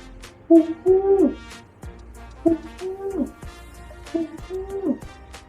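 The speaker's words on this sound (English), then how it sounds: "Pigeon," Pigeon cooing, three rounded rolling calls spaced about two seconds apart, each a pair of low warbling coos, close and clear with no talking over them.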